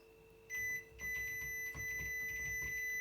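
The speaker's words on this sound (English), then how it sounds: "If you press and hold spin and favourite, it will beep to indicate it's unmuted." A Hisense WFQP9014EVM washing machine beeping after being unmuted, a short high electronic tone followed by a longer repeating beep pattern, close and clear over a constant low electrical hum.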